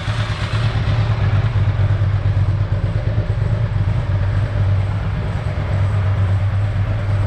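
Ducati ST4-family motorcycle engine idling at about 1100 rpm during throttle body setup, a steady, loud, low throbbing rumble close to the microphone, unbroken throughout.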